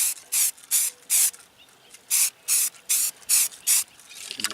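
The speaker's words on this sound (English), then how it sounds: "Taking our Rust-Oleum primer here, just hit those spots first" Rust-Oleum spray primer sprayed onto bald spots of a car fender during auto body rust repair, heard as eight short hissing bursts in an uneven rhythm, close and fairly loud, with quiet gaps and no talking.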